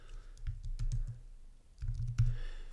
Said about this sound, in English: Now all you have to do is type in NBC News